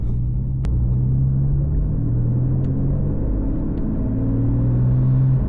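A naturally aspirated Porsche 911 engine drones steadily at low pitch, rising and falling slightly as it pulls through gears, heard from inside the cabin with no talking.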